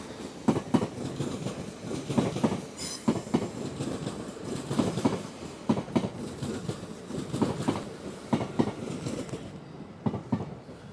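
A Class 801 train pulls out of Doncaster station with a steady rumble and rhythmic clickety-clack of wheels over rail joints, fairly close and continuous, with no talking.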